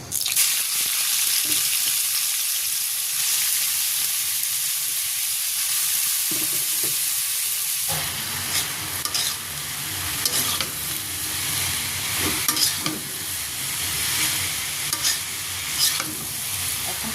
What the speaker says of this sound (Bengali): এই কড়াইতে আমি সিদ্ধ করে রাখা পটলগুলো ভেজে নেব